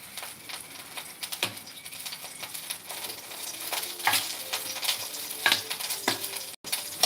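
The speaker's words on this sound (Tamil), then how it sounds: "இப்போ இந்த கருணக்கிழங்கு வந்து நல்லா உப்பு காரம் போட்டு பிரட்டி வச்சுருக்கேன் வந்து ஃப்ரை பண்ணுறதுக்கு ரெடி பண்ணிட்டேன்" Elephant foot yam coated in salt and chilli spice fries in a pan, giving a steady close sizzle with occasional stirring scrapes and clinks, no voices.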